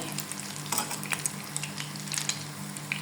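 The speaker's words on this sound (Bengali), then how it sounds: "এটাকে একটু সুন্দর করে লাল করে ভেজে নিতে হবে" Meat pakoras deep fry in hot oil, a close, continuous crackling sizzle dotted with bright pops and spits throughout.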